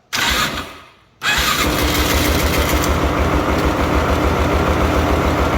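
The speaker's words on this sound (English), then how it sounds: "Should be able to turn the key and it should fire right up." A Polaris Sportsman 500 ATV engine fires up on the key after a brief stumble and short gap, then settles into a loud, steady, close idle with a rapid even chug.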